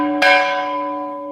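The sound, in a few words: old church bell being rung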